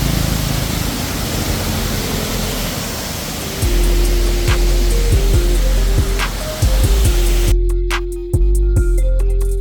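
Waterfall in the Mindoro countryside, a steady broad roar of falling water that fills the whole clip, with a faint tone and a shift toward the end as the sound changes character.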